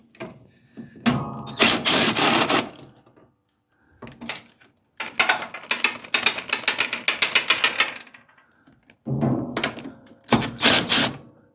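Bolts being worked loose from a car's air box: close bursts of rapid mechanical clicking and rattling ratchet action separated by short pauses, fairly loud, with no talking.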